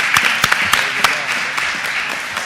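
Clapping from a city council chamber audience honoring a hip-hop artist: a few sharp, distinct claps over a steady wash of applause, fairly loud and close.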